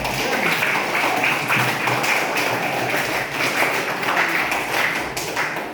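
A class of students claps together in a classroom. The clapping is a continuous, even patter of many hands at moderate loudness, lasting several seconds without a break.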